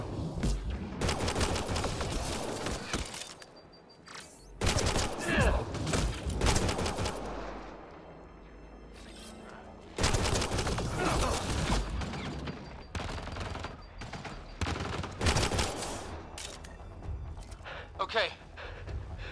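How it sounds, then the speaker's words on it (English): Heavy gunfire and explosive bursts from a combat scene in the video game Mass Effect Andromeda, with rapid volleys and intermittent blasts. Voices are heard amid the shooting. "Nyan, shoot it!"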